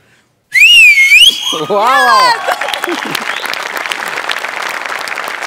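A bright whistle glides up and down for about two seconds, then loud applause and cheering from a comedy-show audience carry on steadily.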